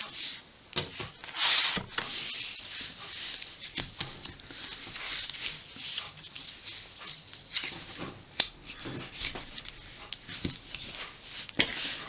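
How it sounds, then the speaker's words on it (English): A folded paper gatefold card being burnished flat by hand, heard as a series of close, dry rubbing strokes and soft scrapes that come in irregular bursts, with small taps and paper rustles between them. "Burnish that down."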